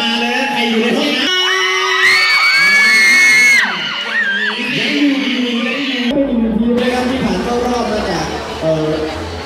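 A crowd at a street cover dance contest at Central Ubon cheers and yells loudly and continuously, children's shouts and whoops rising over an announcer's amplified voice.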